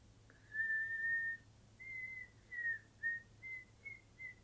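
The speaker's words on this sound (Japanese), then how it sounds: "私の限界口笛。" A young woman whistling alone in a quiet room, a long held note followed by a string of short, faint, slightly wavering notes at nearly the same pitch.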